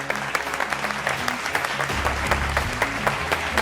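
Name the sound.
studio audience applauding the guests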